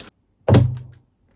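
A magnetic item thunks once against a door, a single close, solid knock with a short ringing tail, with silence around it.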